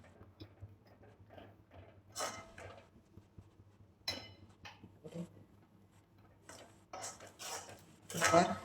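A spoon stirs milk into bottle gourd halwa in a pan, giving sparse close clinks and scrapes of metal with quiet pauses between strokes.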